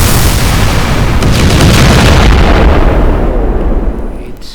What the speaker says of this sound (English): if I click the shot button repeatedly, you see there is no delay between the rocket shots